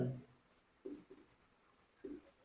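Faint, brief scratching of writing on a board comes in three short strokes, with quiet pauses between them.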